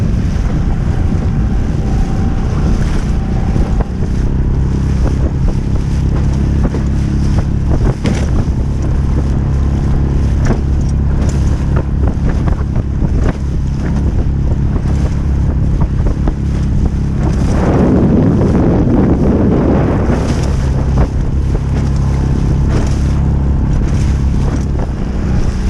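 A boat motors slowly at about 4.5 knots through lumpy, rough sea near the Needles off the Isle of Wight, with a steady low engine drone, waves slapping and surging, and constant wind buffeting the microphone.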